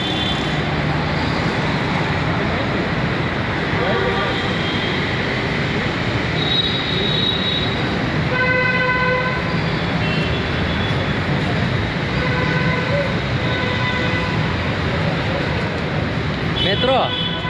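A metro train running, with a continuous rolling roar of wheels on rail and occasional thin high squeals from the wheels, loud and close, as people talk over the noise.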